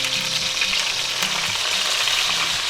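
Thick boneless pork chops sear in a hot cast iron skillet, giving a loud, continuous close-up sizzle with a faint low hum underneath.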